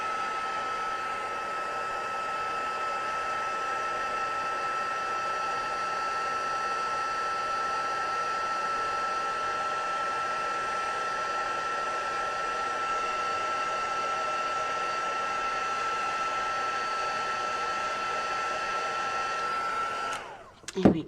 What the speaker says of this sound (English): get my heat tool again